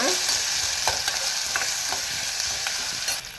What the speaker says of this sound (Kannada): ಈರುಳ್ಳಿ ಚೆನ್ನಾಗಿ ಫ್ರೈ ಮಾಡ್ಕೊಳ್ಳೋಣ. ಸ್ವಲ್ಪ ಅರಿಶಿನ ಪುಡಿ ಹಾಕ್ತಾಯಿದ್ದೀನಿ ಒಗ್ಗರಣೆನಲ್ಲೇ.